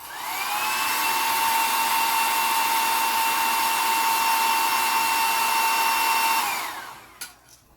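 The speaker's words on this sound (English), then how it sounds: "I'm actually going to heat set that because it did lay in a little heavy." A heat gun sets freshly applied craft paint, giving a loud, steady blowing roar with a constant whine that runs for about seven seconds, then cuts off, followed by a couple of light handling clicks.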